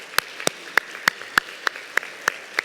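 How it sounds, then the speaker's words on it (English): At a cochlear implant conference session, a single pair of hands claps slowly and evenly, about nine sharp, close claps spaced roughly a third of a second apart over quiet room tone. "please stand up so we can give you a round of applause for all of your work on the committee"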